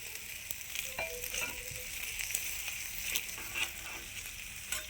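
Malai paratha fries in oil on a hot pan, giving a steady close sizzle with scattered crackles and small pops throughout, and no voices.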